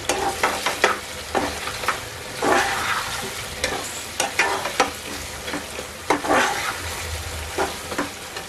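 Mutton ghee roast with pepper powder and coriander leaves is stirred in a sizzling pan. A spoon scrapes and clacks in a loose rhythm over a continuous close frying hiss, with no voices.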